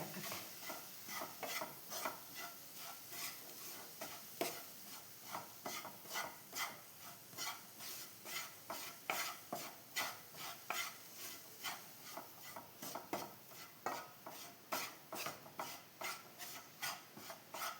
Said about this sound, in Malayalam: എല്ലാം കൂടി ഒന്ന് ഇളക്കുന്നുണ്ട്